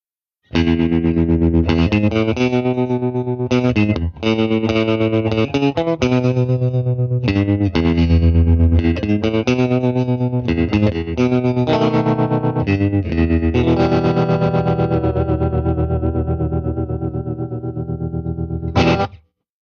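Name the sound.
electric guitar through tremolo pedal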